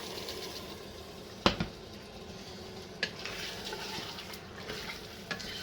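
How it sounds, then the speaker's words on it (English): Garlic sizzles steadily in a pan while it cooks for tinola, a constant frying hiss with a few sharp clinks of a utensil stirring against the metal. "So just leave it like for 10 seconds maybe, and then stir it again."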